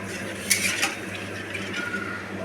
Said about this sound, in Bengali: জল দিয়ে ভালো করে আলুর সাথে মশলাগুলো মিশিয়ে দিয়েছি